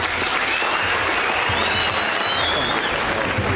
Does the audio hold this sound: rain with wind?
no